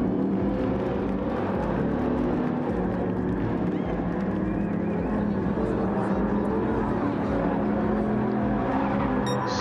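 Race cars in a video game race at the Autopolis track, a steady loud engine drone with whirring tones throughout, as the field lines up for the start under continuous commentary.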